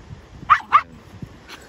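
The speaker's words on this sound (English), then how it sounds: "Little Shiba Inu," A small feral Shiba Inu gives two sharp, high yips close by, then a fainter whimpering yelp, against a quiet outdoor background.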